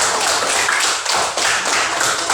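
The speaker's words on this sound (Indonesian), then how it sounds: "Bagus, tepuk tangan." A classroom of students claps together during a lesson on electric current, a dense, fairly loud wash of clapping with slight pulses and a brief dip midway.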